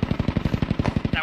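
Rapid automatic gunfire in a squad-based shooter video game, a fast even burst of about fifteen punchy shots, close and loud.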